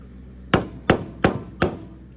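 Four sharp metallic hammer blows on a 1945 Farmall A tractor at a steady pace, loud and close, each ringing briefly before the next strike.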